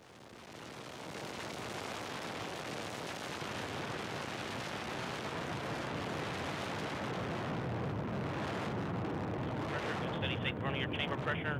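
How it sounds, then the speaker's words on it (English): A Delta II rocket carrying the NOAA-N Prime satellite lifts off, a distant roaring rumble that swells in and holds as a continuous, dense, crackling roar growing slightly louder over several seconds. "liftoff of the Delta II rocket with NOAA-N Prime"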